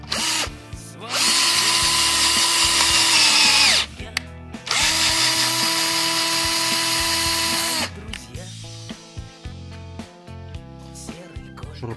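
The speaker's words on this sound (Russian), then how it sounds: "Шуруповерт у меня поставлен на 15, на затяжку примерно 15." Cordless screwdriver set to clutch 15 driving a thread-cutting tap, two long, loud high-pitched whines of several seconds each, followed by short bursts and clicks as the tool stops and restarts.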